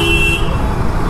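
Busy street traffic in the Vijayawada electrical wholesale market, with a steady engine rumble under a sustained car horn that blares for the first half second and then drops away, leaving the loud traffic din alone.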